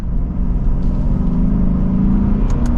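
A 2024 Lexus IS500 F Sport in eco mode drops to third gear, its engine giving a steady loud rumble with a rising tone toward the end, heard alone from inside the cabin.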